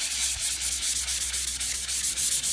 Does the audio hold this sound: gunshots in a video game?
no